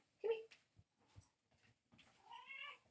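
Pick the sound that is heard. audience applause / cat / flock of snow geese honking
cat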